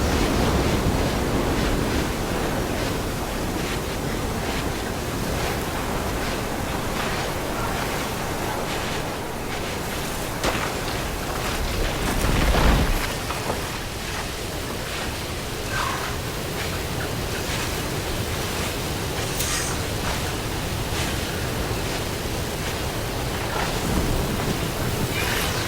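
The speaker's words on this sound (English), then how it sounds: "Oh, the storm's whipped up a sand spiral." Sandstorm wind in the Horizon Forbidden West video game, a steady broadband roar of blowing sand that holds loud throughout with a brief gust swell midway.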